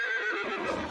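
A horse whinnies loudly in the fantasy video game Pathfinder: Kingmaker, a bright, quavering neigh that fills the whole second with no other sound.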